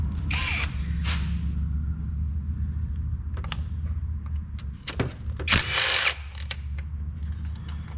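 Power tool removing 10mm alternator bolts on a 2019-2024 Nissan Altima, a few short whirring bursts with metallic clicks and rattles in an engine bay, close against a low background hum.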